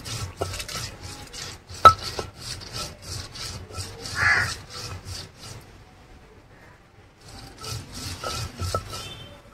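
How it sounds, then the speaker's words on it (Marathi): Chillies, curry leaves and coriander being finely chopped by hand, a run of quick close knife taps on a board, pausing briefly before the chopping resumes, with no talking. "आता मिरची, कढीपत्ता आणि कोथिंबीर बारीक करायची"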